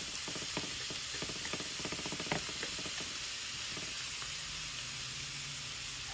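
Precooked ham sizzling as it warms in a frying pan, a steady hiss with scattered crackles and a few sharp clicks from utensils, fading to a calmer sizzle toward the end.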